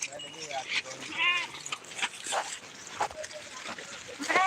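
Several sheep bleat in short wavering calls amid a noisy outdoor flock, with people talking nearby and a louder bleat close by at the end.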